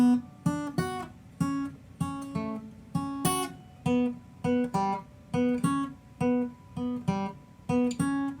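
Acoustic guitar slowly picking the riff, with clear individual plucked notes in a steady, deliberate rhythm, close and alone.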